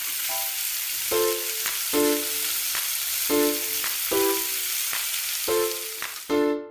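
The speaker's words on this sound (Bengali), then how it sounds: "এবার কেটে রাখা সবজিগুলো দিয়ে আরো কিছুক্ষণ সময় ভেজে নিলাম।" Chopped vegetables, including cauliflower, fry in oil for a vegetable pulao, giving a steady close sizzle that runs through the whole stretch while a repeating tonal melody plays over it.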